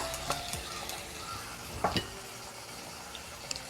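A large chopped onion fries in a pan for a stuffed bitter gourd dish, a steady close sizzle broken by a few clinks and scrapes of a spoon stirring, with no voices.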